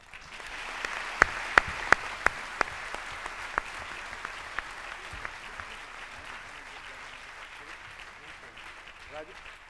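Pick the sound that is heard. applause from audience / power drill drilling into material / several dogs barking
applause from audience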